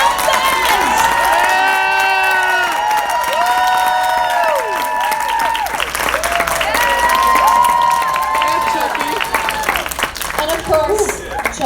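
Audience at a horror-film convention panel applauding and cheering, a loud steady wash of clapping with whoops and shouts lasting throughout, voices and hoots rising above the crowd.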